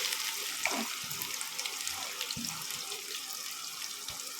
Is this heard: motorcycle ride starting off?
no